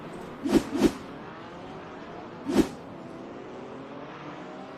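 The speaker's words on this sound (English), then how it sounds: "The pace car is already out for race number 2" Race cars in iRacing at Interlagos hum under a steady engine drone, with three sharp, brief bursts of noise, two close together and one later, standing out above the constant background.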